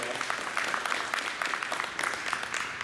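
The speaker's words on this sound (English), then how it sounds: "Let's give them one more round of applause." A crowd at a company expansion announcement in Iola gives another round of applause, a fairly faint, busy crackle of many hands clapping throughout with no voices over it.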